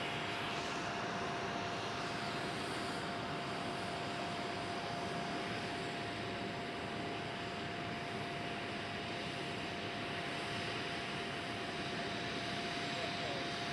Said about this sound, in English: KLM City Hopper E190 arriving on runway